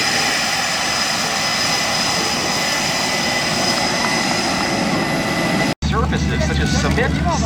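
C-17 military transport aircraft at an air show, its engines a loud, steady roar heard close for several seconds before an abrupt cut, with a voice talking over it.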